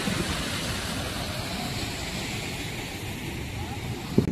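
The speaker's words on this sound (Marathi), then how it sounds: "ते बघा इकडं नरमादी धबधबा आहे" Nar-Madi waterfall at Naldurg Fort roars as a steady, dense broadband rush of falling water, loud and unbroken across the whole stretch, mixed with wind buffeting, ending in a brief sharp knock.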